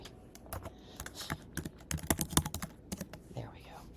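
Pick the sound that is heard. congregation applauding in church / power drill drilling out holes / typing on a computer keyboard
typing on a computer keyboard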